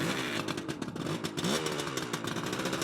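A 1972 Suzuki GT380 motorcycle engine runs up close, a steady, loud two-stroke idle with a few brief blips of throttle and no talking over it.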